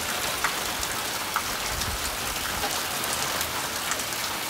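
Steady rain falls outdoors as a loud, continuous hiss, with occasional individual drops tapping through it. No one speaks.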